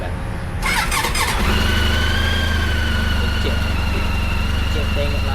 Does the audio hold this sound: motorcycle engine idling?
yes